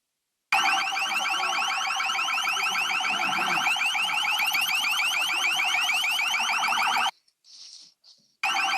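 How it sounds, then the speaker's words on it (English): A loud, harsh electronic tone from an LRAD acoustic device used against protesters in Baton Rouge warbles rapidly and continuously for several seconds, cuts out abruptly, then briefly returns after a short gap. "a brief fragment of a video taken of the use of the LRAD against protesters in Baton Rouge"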